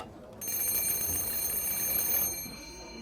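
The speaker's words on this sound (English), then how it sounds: "This here is a 1915 telephone from Denmark that was donated, and it still works." A working 1915 Danish telephone rings, its bell jangling loudly in one continuous burst of about two seconds before stopping, heard alone indoors.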